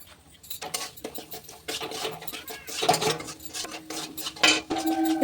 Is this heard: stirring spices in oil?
yes